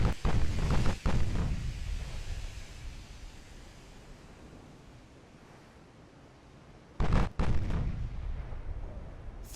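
Torpedo explosions strike armored cruisers in the naval warfare game Ultimate Admiral Dreadnoughts, with loud booming blasts at the start and again near the end and a low rumbling wash in between.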